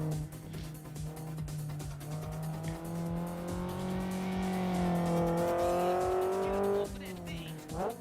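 A race car slides through a corner on track, its engine droning steadily with rising and falling pitch while tires squeal, then revs change sharply near the end; loud and close throughout.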